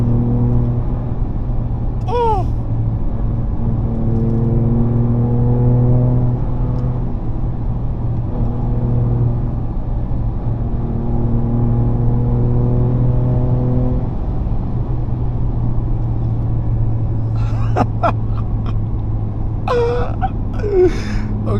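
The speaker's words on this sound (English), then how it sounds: "I complained about this exhaust, and I think now I'm finding a reason to love it again and again and again." A 2024 Ford Ranger Raptor with the 3.0L V6 drones through its exhaust while driving, a steady low rumble with rising and falling tones, and a short voiced sound near the end.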